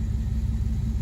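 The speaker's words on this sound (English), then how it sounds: "We're gonna leave it idling for a while." A Ram pickup truck that burns a lot of oil, treated with an oil additive, idles in a steady, continuous low rumble with no voices.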